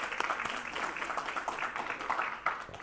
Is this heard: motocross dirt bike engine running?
no